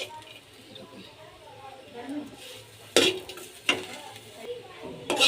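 Bitter gourd bharta ingredients frying in a pan until charred, with a low sizzle, some clattering stirs and utensil knocks, and a voice talking over it.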